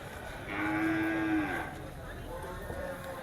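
Cattle at a livestock auction market, one long loud moo rising near the start, then quieter market noise and faint distant sounds of the crowd.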